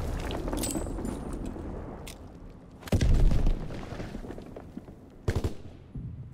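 Grenades going off in a WW2 shooter game: a loud, deep blast with a rumbling tail, followed a couple of seconds later by a sharper, shorter burst against a low battle-noise bed.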